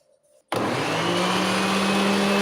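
Countertop blender grinding tomato, green pepper, coriander, parsley and dill for a chicken dish, switching on abruptly after a quiet moment and running as a loud, steady whirring drone to the end.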